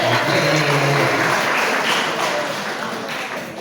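An audience applauds after a new seminar is announced at a church worship gathering, a dense, steady wash of clapping that fades slightly toward the end, with no voices over it.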